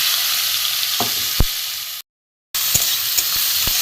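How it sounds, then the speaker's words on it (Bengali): Chopped onion, tomato and garlic fry in hot tempering oil with a steady, bright sizzle, broken by a few sharp stirring clinks and one brief silent gap. "ভালো করে একটু রসুন আছে, পেঁয়াজ, টমেটো একটু ভালো করে এটা ভেজে নেব"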